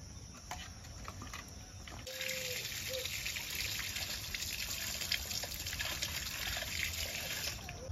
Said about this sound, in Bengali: মাছগুলো জল দিয়ে ভালো করে ধুয়ে নিয়েছি